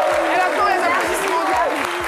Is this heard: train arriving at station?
no